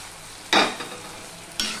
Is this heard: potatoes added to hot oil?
yes